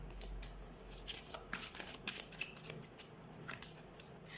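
Tarot cards being shuffled by hand, a steady run of soft riffling snaps and slides, close and fairly quiet with no talking.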